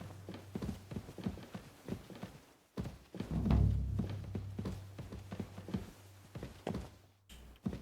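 Hooves of a horse walking in the medieval video game Kingdom Come: Deliverance II, a steady, fairly faint clip-clop with dull thunks and a low hum beneath.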